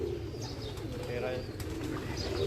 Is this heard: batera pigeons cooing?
yes